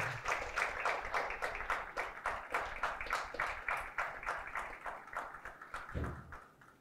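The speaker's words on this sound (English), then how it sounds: "Let's give her a round of applause." A crowd applauds steadily, dense rapid clapping filling the whole stretch, then thinning out slightly toward the end.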